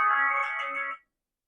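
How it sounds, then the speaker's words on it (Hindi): Phone ringtone during a live Nifty 50 scalping trade: a bright, tonal melodic chime plays clearly for about one second, then cuts off abruptly into silence. "ये ट्रेड के बीच में कौन फोन कर दिया भाई"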